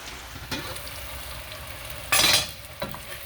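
French fries frying in a pan of hot oil with a steady, close sizzle, and a brief louder burst of crackling hiss as more of the batch is stirred or added.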